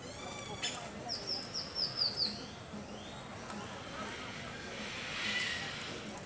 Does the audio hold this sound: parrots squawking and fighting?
yes